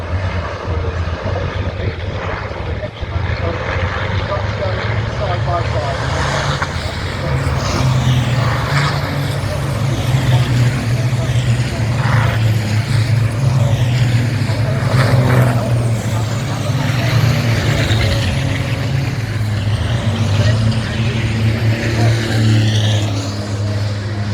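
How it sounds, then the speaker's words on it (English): Racing trucks roar around the Druids hairpin at Brands Hatch, a dense, loud, continuous engine drone with heavy low rumble and shifting revs as the pack passes closely together. "Livery trucks go almost side by side as they go through Druids."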